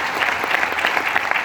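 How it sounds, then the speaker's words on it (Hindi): Audience applause in a hall during a business seminar, a dense, steady patter of many clapping hands filling the whole moment, loud and continuous with no voices rising above it. "इनके लिए ताली बजाओ।"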